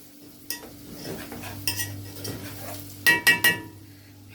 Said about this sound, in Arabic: طبعا نقلب كده كويس.